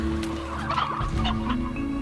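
Hens clucking in the video game Slime Rancher, a dense, busy flock of in-game chickens cackling continuously over a steady low hum, close and fairly loud with no talk.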